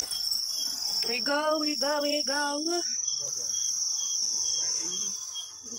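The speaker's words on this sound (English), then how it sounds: "we love the sound of the cricket." Crickets chirp at night in Nanyuk, Kenya, a steady high continuous trill running throughout, with a brief burst of spoken voice in the middle.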